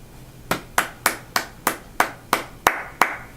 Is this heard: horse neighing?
no